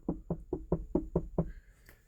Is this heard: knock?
yes